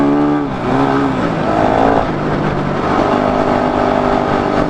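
A dirt bike engine revs up loud and close as the rider opens the throttle with no clutch, the pitch rising and then holding at a steady high drone.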